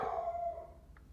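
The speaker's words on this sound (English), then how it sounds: "That is my dog." A pet dog howls in a long drawn-out wail indoors, moderately loud and sliding downward before fading, with no talk over it.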